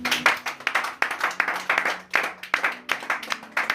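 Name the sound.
congregation applauding in church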